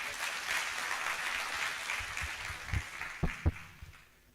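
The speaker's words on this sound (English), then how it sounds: "Can we clap for George?" Applause from an audience at a university public lecture, welcoming a law school lecturer to the stage; a broad hiss of clapping that thins out, with a few louder individual claps near the end.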